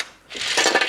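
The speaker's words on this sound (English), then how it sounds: "gonna get some ice out of my ice maker." Ice cubes from a home ice maker clatter down in a quick, bright rattle, close and brief, with no voices.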